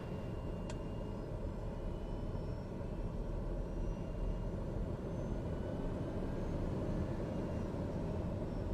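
A light aircraft taxis on the ground in Microsoft Flight Simulator 2020, its engine a steady, low, continuous drone that holds level throughout with no voices.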